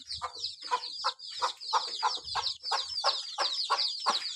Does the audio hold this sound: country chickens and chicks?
yes